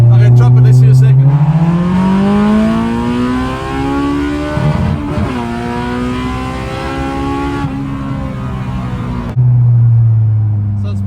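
An all-motor K24 engine in a Honda Civic revs hard toward 8,500 rpm in second gear, a loud, close, rising wail with gear-change dips and harmonics climbing repeatedly, dominating the cabin.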